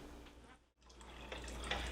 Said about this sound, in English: I'm going to put enough water to completely cover this chicken, so I need more in here right now